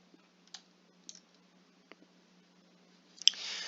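Faint, sharp computer mouse clicks on a software icon sound in a quiet room, spaced irregularly, with a slightly louder click and brief rustle near the end.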